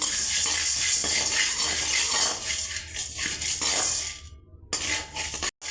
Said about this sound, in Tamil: கடலைப்பருப்பு பார்த்திங்கன்னா நல்லா வறுபட கொஞ்சம் டைம் எடுக்குங்க. இது ஒரு கொஞ்ச நேரம் பொறுமையாக தான் வறுக்கணும்.